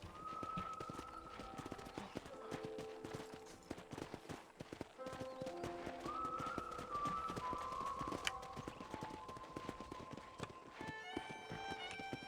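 Horse hooves clip-clop steadily at a riding pace in Red Dead Redemption, with the odd snort over a bright, continuous musical score that rises and shifts throughout.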